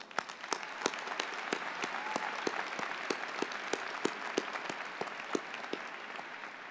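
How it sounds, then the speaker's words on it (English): Steady applause from a commencement audience honoring the Adelphi University class of 2025 graduates, dense clapping from many hands sustained throughout with sharp individual claps standing out, no voices. "So let's applaud our graduates today for their hard work and persistence."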